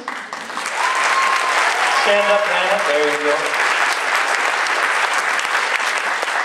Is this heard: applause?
yes